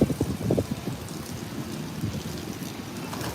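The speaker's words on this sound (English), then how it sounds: "it's getting windy again" Strong wind buffets the microphone near a beach in Thailand, a steady low rumbling roar with gusty bursts, loudest at the start, and it carries on throughout with no voices.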